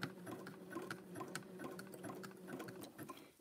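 A sewing machine back stitching a fabric coaster, a soft rapid mechanical whir with a steady hum and clicking needle ticks, quiet and close throughout.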